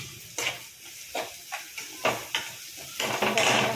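Onion being sautéed in a pan for upma, with repeated scraping stir strokes and short sizzling bursts at an irregular rhythm, close and fairly loud with no speech.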